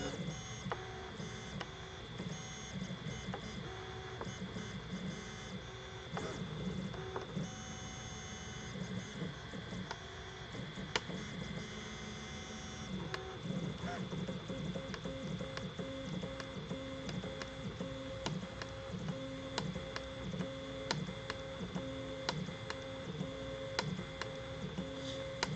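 An EasyThreeD K1 3D printer prints quietly and continuously, its stepper motors whirring and ticking in shifting patterns with faint cracking clicks, and a steady hum sits underneath throughout.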